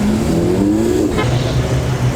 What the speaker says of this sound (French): Oh, l'échappement à Krapovic en plus.